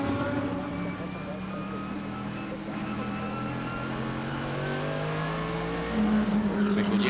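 Schnitzer BMW GT race car at Oschersleben during a GT Masters race, its engine droning steadily at mid distance with a rising pitch near the end, under a commentator's voice.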